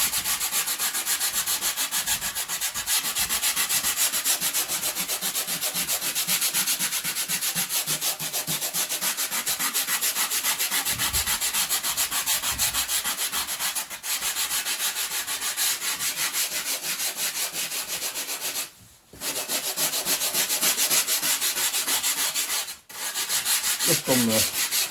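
Fibreglass edge of a boat rib is rubbed and sanded by hand, a close, continuous raspy scrubbing in quick back-and-forth strokes that runs almost unbroken, with two brief pauses near the end.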